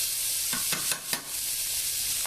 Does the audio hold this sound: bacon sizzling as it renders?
yes